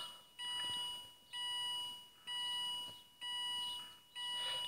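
Renault Trafic instrument panel running its self-test, sounding a repeating electronic beep about once per second, five even pulses, clear and alone.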